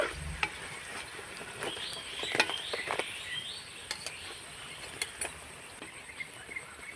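Soft, steady sizzling of snacks frying slowly in oil until crisp, with occasional light scrapes and taps of stirring, fairly quiet.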